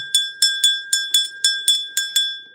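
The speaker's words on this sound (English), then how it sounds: "you should be familiar with my bell" A small bell rings nine times in a steady rhythm, each bright metallic strike ringing briefly before the next, close and clear with no talking.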